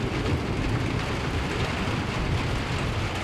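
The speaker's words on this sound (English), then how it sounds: "and a whole lot of rain." Heavy rain pours steadily through a predawn thunderstorm in Oklahoma, a dense continuous roar with deep low rumble beneath, loud and unbroken, with no voices.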